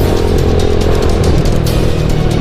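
Yamaha Jupiter MX motorcycle engine revved loudly up close, a dense, rough buzzing roar that stays strong and steady throughout with slight surges in pitch.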